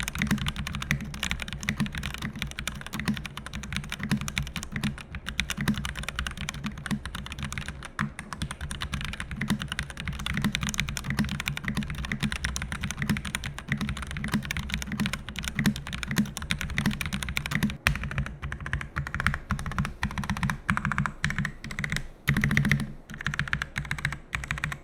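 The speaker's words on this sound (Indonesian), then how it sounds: "Kalau buat sound signature-nya biasa saja, nggak begitu istimewa tapi masih menunjukkan suara dari sebuah mechanical keyboard seharusnya" Close, steady typing on an NYK Nemesis Lasher KX-10 mechanical keyboard: a continuous, fast stream of clicky keystrokes with a few brief pauses and no talking.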